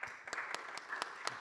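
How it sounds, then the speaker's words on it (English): Sparse, separate claps from a small audience welcoming a speaker at a tech conference, a few distinct hand claps over a low murmur of applause. "Please give a warm round of applause."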